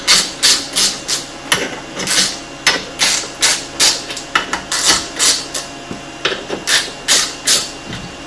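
Ratcheting wrench clicks and metallic tool knocks while loosening the bolts of a Quadboss clutch kit on a Polaris RZR, repeated in steady bursts close by, with no talking.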